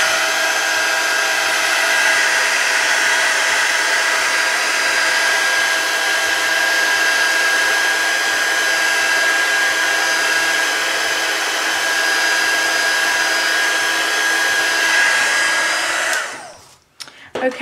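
A hair dryer blows with a loud, steady whir for about sixteen seconds while drying ink on an artist trading card, then switches off abruptly.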